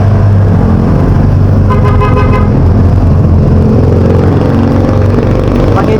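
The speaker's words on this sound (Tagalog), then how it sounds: "Daanan ng mga sasakyan dito, tricycle." Busy road traffic in Novaliches City with passing tricycles and cars, a steady loud engine rumble and a burst of car horn honking partway through, with no talk.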